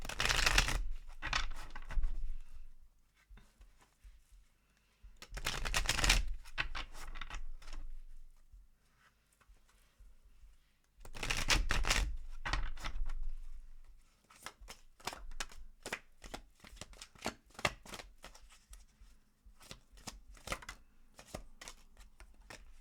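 Tarot cards being shuffled by hand, three long bursts of riffling followed by a run of quick, crisp card snaps, close and fairly quiet.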